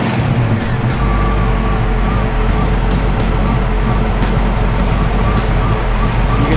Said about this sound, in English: You can hear those cams.